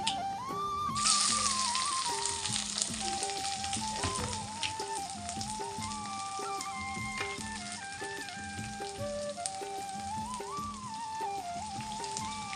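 Onions fry with spices in a pan, a bright continuous sizzle with crackling spatters, close by, over a steady tonal music bed, with no talking.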